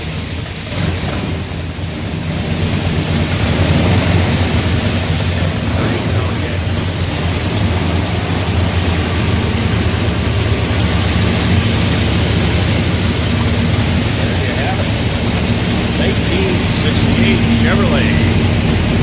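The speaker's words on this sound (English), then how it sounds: "Let's go ahead and fire it up so you can hear it run" A 1968 Chevrolet K30 truck with a 396 engine starts and then runs at a loud, steady rumble that fills the space, close up and continuous.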